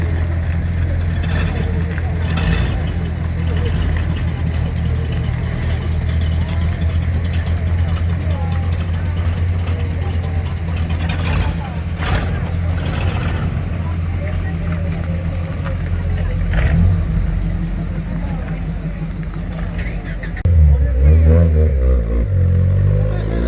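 A right-hand-drive Mitsubishi FTO sports car idles steadily and loudly up close at a classic car meeting, its engine note rising briefly near the end, with people talking over it.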